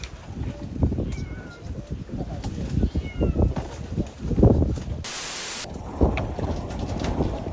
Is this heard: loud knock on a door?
no